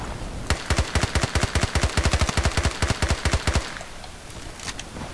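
An MP5 in the video game Battlefield Play4Free is tap fired at medium range: a long run of about two dozen sharp, evenly spaced single shots, loud and close, then a few fainter pops as it trails off.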